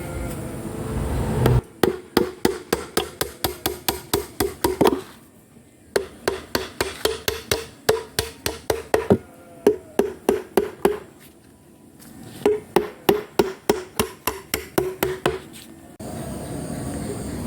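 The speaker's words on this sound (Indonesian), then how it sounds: "pemasangan paku." Nails are hammered to secure a topping onto a log hive for stingless bees: loud, rapid, evenly spaced strikes come in three long runs, separated by short pauses.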